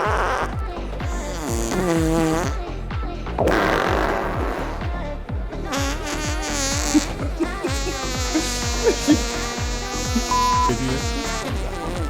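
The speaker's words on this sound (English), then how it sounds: "The preamble, it's fart noises." Comic fart noises in a played DJ set, a run of buzzy, wobbling raspy blasts over a steady thumping beat, loud and continuous, with no talking.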